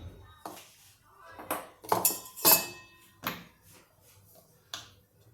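Metal lid set onto a pan on a lowered gas flame while cooking green pea samosa filling, heard as several sharp clanking and ringing knocks in quick irregular succession, close and fairly loud, then a last fainter clink.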